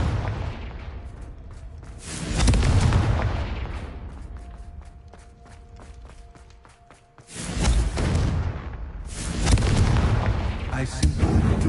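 Loud, booming fire-spell explosions in the fantasy game Hogwarts Legacy, with three heavy roaring blasts, each followed by rumbling decay and a burst of crackling, popping bits in the quieter gap between them.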